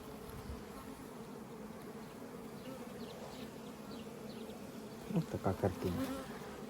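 A steady, dense hum of many honeybees droning continuously near an open hive, with a few louder, closer buzzes swelling near the end.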